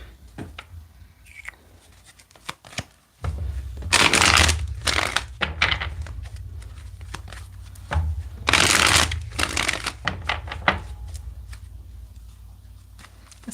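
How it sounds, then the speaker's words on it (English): A deck of cards is shuffled during a tarot-style horoscope reading: two loud, rapid riffle bursts a few seconds apart, surrounded by softer taps, slides and handling of the cards close to the microphone. "Let's get two more good shuffles here."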